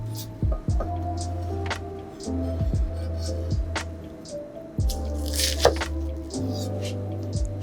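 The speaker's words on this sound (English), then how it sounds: "Cut in half horizontally and into 4 cuts vertically." A kitchen knife cutting through an onion on a wooden board in a Japanese chef's kitchen, a series of sharp, close chops and thuds spaced irregularly with faint squishy slicing sounds in between.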